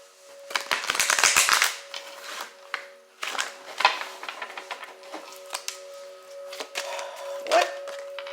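Tarot cards are shuffled by hand in rapid riffling bursts with pauses between them, close and crisp, with a steady electronic tone humming underneath.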